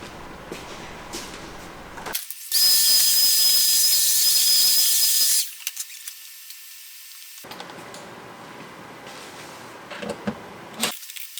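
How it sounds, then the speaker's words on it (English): A vacuum cleaner sucking up dust inside the enclosure of an X-Carve CNC machine, a loud bright hissing whoosh lasting about three seconds between quieter stretches of handling and clatter. "And we can now vacuum up all of our dust."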